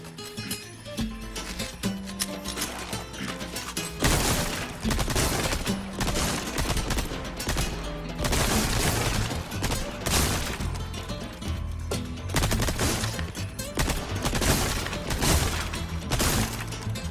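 Gunfire from a Resident Evil 4 (2023) shooting challenge, dense bursts of shots crackling over a loud game soundtrack, with rapid volleys and impacts carrying through the whole stretch.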